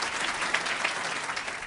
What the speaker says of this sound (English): A big round of applause for Professor Adam Habib.